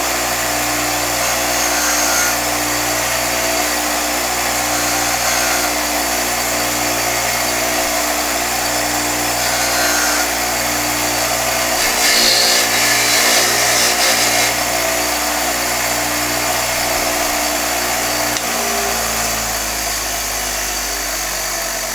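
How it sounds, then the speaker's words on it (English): Power grinder running steadily and loud, smoothing a soldered PL-259 connector on RG-400 coax, a continuous machine drone lasting the whole stretch with a brief rise in intensity midway. "If it's a little rough, you can always hit it with the grinder a little."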